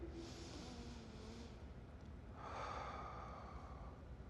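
A person resting on a foam roller takes slow, audible breaths, a drawn-out inhale followed by a long airy exhale, close and quiet.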